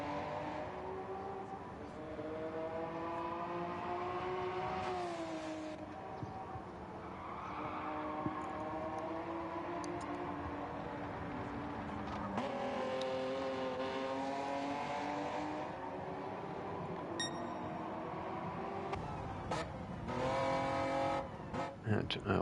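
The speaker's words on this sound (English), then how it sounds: "This car doesn't sound modified. It's too quiet." Stock, unmodified race car engine at an Autocare round, revving at a fairly quiet pitch from a distance with rising and falling sweeps under continuous live commentary.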